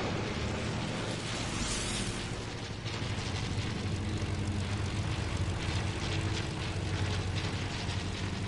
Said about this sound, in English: Bro, there's a plane flying around, dude.